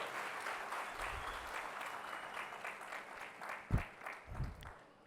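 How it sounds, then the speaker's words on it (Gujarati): Audience applause at a community gathering of a Patidar association in Surat, a steady wash of clapping from a crowd lasting the whole stretch, with a few louder thumps near the end. "એટલે ફરી એકવાર કાનજીભાઈ ભાલાળા માટે જોરદાર તાળીઓ થઈ જાય."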